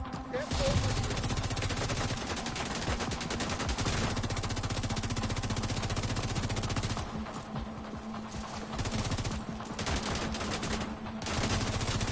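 Sustained automatic weapon fire in the video game Division 2, loud dense bursts of rapid shots rattling almost continuously with short gaps, close and dominant over the game's background sound.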